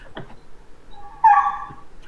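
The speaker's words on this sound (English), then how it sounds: "Oh, my doggy's barking." A pet dog outside a closed door gives a single short, whining bark, faint and alone in a quiet room.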